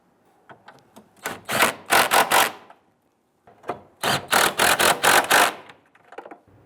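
Fuel pump module retaining lock on a Dodge Grand Caravan being worked into place, with two clusters of close scraping, clicking plastic snaps separated by a short pause, no speech.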